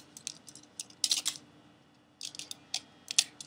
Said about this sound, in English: you're going to cut right around the quarter outline